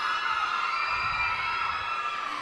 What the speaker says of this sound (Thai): เดี๋ยวพี่ขอเสียงแฟนคลับของน้องบอยช่วยกรี๊ดให้หมดทุกคนเลยนะ